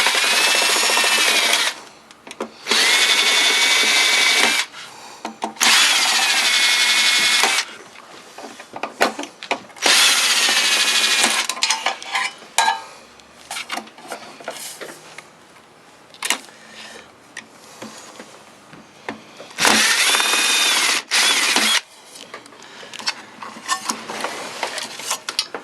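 Power drill backing screws out of an old Telex cassette tape copier, several loud bursts of whirring drilling separated by short pauses, with scraping and handling noises between them.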